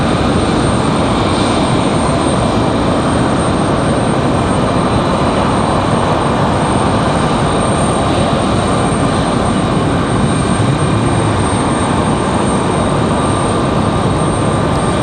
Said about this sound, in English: A little bit of a drag race from our 767 and then CRJ.